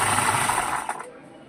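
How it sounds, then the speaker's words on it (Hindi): A sewing machine stitching a kurti neckline runs in a fast, loud whirring burst that stops abruptly near the end, with a voice talking over it. "तो इस तरीके से फ्रेंड हम अब इसमें सिलाई लगाएंगे।"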